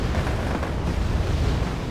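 A napalm bombing run in the video game Wargame Airland Battle, a dense sustained roar of fire and blast rumble, loud and continuous throughout, with no voices.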